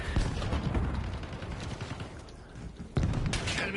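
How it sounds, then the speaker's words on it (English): Enemy sniper fire in a shooter game, sharp broadband cracks and booms rising out of dense battle noise, with a loud shot near the end. "Enemy sniper shooting."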